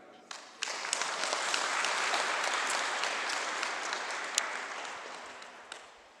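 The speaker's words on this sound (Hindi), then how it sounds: "यदि आप लोग खुश हैं तो ताली बजाइए।" Wedding guests at a wedding programme in Simdega break into steady applause that swells quickly, holds for several seconds and then tapers off, with a few sharper claps standing out.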